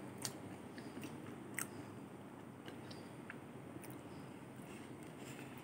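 Someone chews a bite of peach mango pie close to the microphone, giving soft irregular crunchy bites and a few sharper clicks over low background noise, with no talking.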